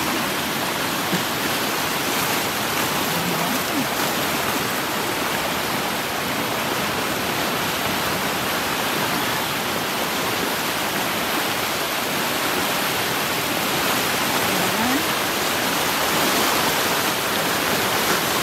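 Floodwater rushes near a farm after Typhoon Agaton, a loud, constant broadband roar of flowing water that stays steady throughout with no voices over it.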